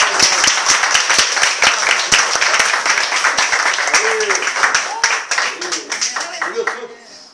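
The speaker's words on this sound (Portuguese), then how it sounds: "uma salva de palmas" A church congregation claps together after a closing prayer, a loud, dense run of handclaps that thins out toward the end, with voices calling out over it.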